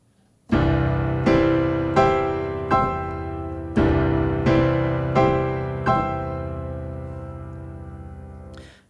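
Forceful piano chords struck one by one and climbing through octaves, about eight loud, ringing hits in an unhurried rhythm, each left to sustain and decay before the next, with no talking.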